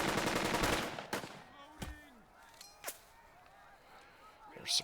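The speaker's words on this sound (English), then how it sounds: "Step forward here, and we'll take some shots at this MG." In the WWII tactics game Burden of Command, a rapid machine-gun burst opens, then several isolated, sharp gunshots crack at intervals, close and loud over a quiet background.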